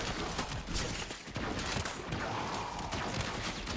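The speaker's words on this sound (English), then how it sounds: "It's just almost sounds like a little ray gun that a kid would use." Incarnon Prisma Angstrum weapon firing down a hallway in Warframe, a rapid, crackling stream of bursts with a faint zapping ray-gun tone, steady and fairly quiet throughout.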